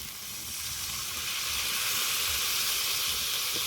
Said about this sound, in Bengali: মশলা থেকে তেল ছেড়ে দিয়েছে এবার জল দিয়ে দেব জল